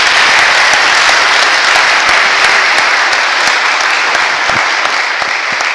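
A large audience at a panel event on new terror laws breaks into loud, sustained applause for two panellists, dense continuous clapping that holds steady and tapers only slightly by the end.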